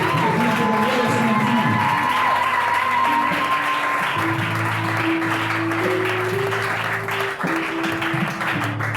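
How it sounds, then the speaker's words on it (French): A church congregation claps loudly and steadily throughout, over sustained musical tones and a few scattered cheers. "Acclamons très fort au Seigneur."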